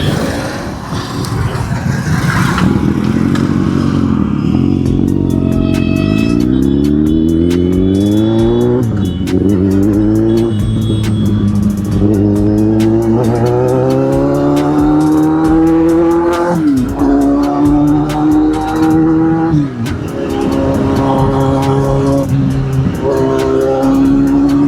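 A parked motorcycle, left standing unused for a week with little petrol in the tank, is revved repeatedly in place. The loud, close engine note climbs and falls in pitch through several long throttle sweeps.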